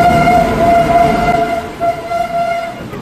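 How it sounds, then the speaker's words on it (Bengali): The Purva Express, a Howrah to New Delhi train via Gaya, arrives at platform 2 of an Indian railway station with a loud sustained horn blast over heavy rolling rumble, then a second shorter horn as it draws in. "12381 up Howrah, New Delhi Purva Express via Gaya is arriving on platform number 2."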